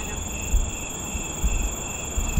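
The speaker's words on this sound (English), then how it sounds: "So if you listen to the crickets, you're like following that line, that constant chirp, chirp, chirp" A steady, high-pitched insect trill, like crickets chirping, drones on continuously over a faint low rumble, with no voices.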